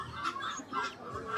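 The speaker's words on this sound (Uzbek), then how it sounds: "Mana tovuqlari." Chickens clucking at a poultry bazaar in Navoiy, a few short nasal clucks and squawks in quick succession, close by with market noise around.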